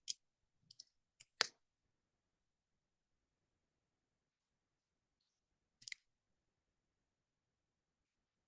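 Wire cutters snip through jewelry wire while a wire-wrapped snake pendant is being made, giving a few faint, sharp clicks in a quick cluster near the start and one more several seconds later, with near silence between.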